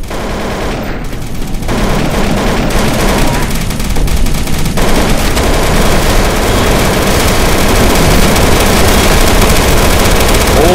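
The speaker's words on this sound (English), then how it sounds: "Stop shooting." Dense, continuous automatic gunfire in a Counter-Strike: Source zombie survival mod game on the zm_Storagehouse_v2c map, loud and relentless with overlapping bursts throughout.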